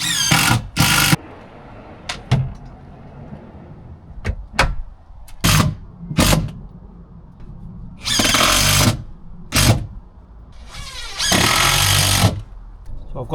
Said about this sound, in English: you have to screw under here